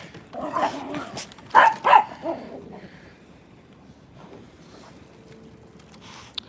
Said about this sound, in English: these are the guard dogs that meet me